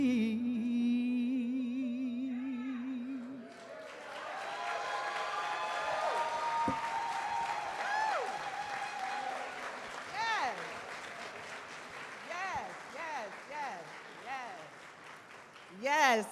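Audience applause after a singer's performance at a Juneteenth kickoff celebration, a broad wash of clapping and crowd noise rising as the song ends and carrying on steadily, with a voice speaking over it and some whoops.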